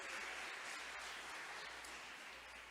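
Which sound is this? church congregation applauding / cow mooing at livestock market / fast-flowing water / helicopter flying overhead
church congregation applauding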